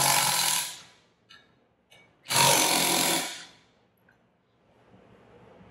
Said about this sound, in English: Then we take off these air chamber bolts.